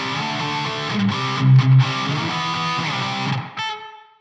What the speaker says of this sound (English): So it's like a room reverb, really. Room, almost like a plate or a room type of thing.